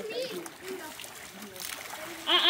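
A turned-on water source splashes in short bursts with a louder splatter near the end, while a voice and other speech run over it.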